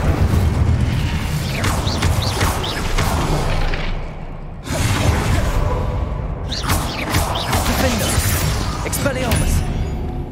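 The Incendio fire spell cast in Hogwarts Legacy makes loud, booming whooshes of flame in two or three heavy surges over a dense, continuous roar of combat sound.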